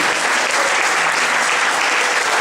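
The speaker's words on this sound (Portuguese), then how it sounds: "Aplauda o Senhor, porque Ele é o nosso Senhor" Church congregation applause during a worship service, a thick, steady wash of many hands clapping together at full volume with no break.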